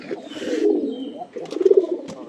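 Pigeons in a loft coo in soft, throaty warbling phrases close by, two rolling bursts separated by a brief pause, with some scuffling noise.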